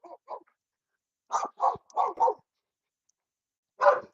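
A dog barks in short bursts close by: two quick yips, then a run of four barks, a pause, and one final bark.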